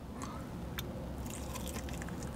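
A close crunchy bite into a Dairy Queen spicy sweet glazed chicken strip followed by wet chewing, with a sharp crack near the start and soft squishy mouth sounds over steady background hum.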